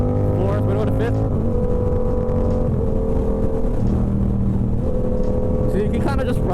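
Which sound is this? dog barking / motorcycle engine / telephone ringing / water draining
motorcycle engine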